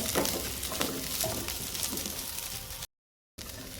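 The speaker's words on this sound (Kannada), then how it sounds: "ಆಮೇಲೆ ಕಾಯಿ ಮೆಣಸನ್ನು ಕೂಡ ಹಾಕಿ ಇದನ್ನು ಸ್ವಲ್ಪ ಹೊತ್ತು ಫ್ರೈ ಮಾಡಿದರೆ ಸಾಕು." Green chillies and onion fry in a pan with a steady close sizzle and crackle, stirred briefly, broken by a short silent gap near the end.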